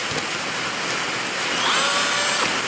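A power drill bores a pilot hole in the glove box of a first-generation Dodge Ram with a very small bit. The steady whir sounds close and alone, and the pitch rises slightly partway through.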